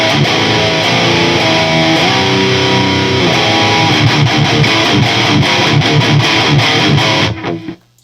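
A 1980s Peavey Butcher amp with its overdrive engaged drives an electric guitar into a thick, crunchy, mid-heavy tone. Chords and riffs play loud and continuous for about seven seconds, then cut off abruptly into silence.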